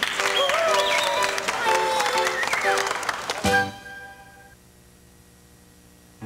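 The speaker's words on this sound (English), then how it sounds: "a nice round of applause for all the patent holders" An audience applauds for kids' toy patent holders, a dense clapping that swells and then stops abruptly, leaving a fading musical chord ringing out.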